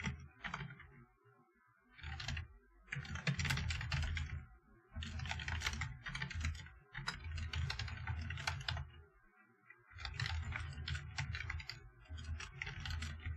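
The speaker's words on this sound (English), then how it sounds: "Sorry, I'm typing something." Rapid clattering keystrokes on a computer keyboard come in several bursts separated by short pauses, close and fairly quiet, with no talking.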